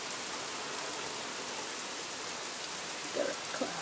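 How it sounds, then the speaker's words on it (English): Heavy thunderstorm rain pours down in a dense, steady hiss, with a couple of faint brief knocks near the end. "look at that heavy rain"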